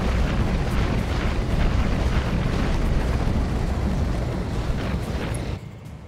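Continuous heavy rumble of weapon fire and explosions as a BattleTech mech shoots at turrets in the Roguetech mod, a loud dense barrage throughout that drops off sharply just before the end.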